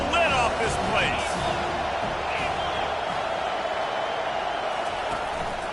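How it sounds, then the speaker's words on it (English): A stadium crowd roars at an American football video game on a third-and-short play, a dense, sustained wall of cheering with whoops rising out of it, heard under a commentator's voice. "this crowd is tearing the lid off this place"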